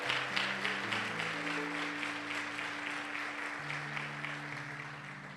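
A church congregation claps steadily through a worship service, a dense, even patter of applause with held organ or keyboard notes sustained underneath.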